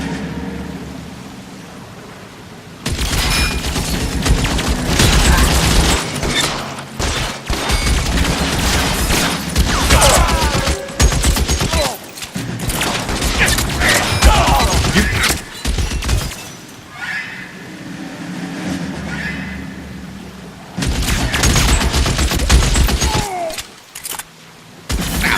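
Gunfire in the video game L.A. Noire, loud repeated bursts of shots in clusters separated by brief quieter gaps, with crashing impacts and no talk over it.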